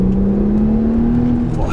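An Audi S4 B5 Avant engine revs at partial throttle, a close, steady drone rising smoothly in pitch for under two seconds, with no speech over it.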